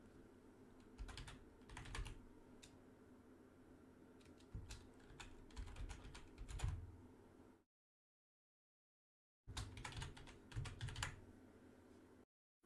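Quiet clicking keystrokes tap on a computer keyboard in uneven bursts, then stop for a short silent gap before another run of typing.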